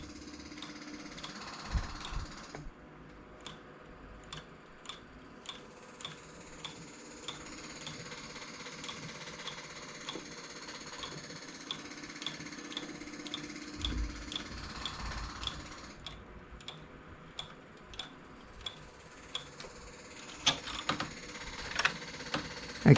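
A knitting machine making lace gives soft rhythmic clacks and sliding mechanical rattles as the carriage runs back and forth across the needles in repeated passes, fairly quiet and close, with no talking.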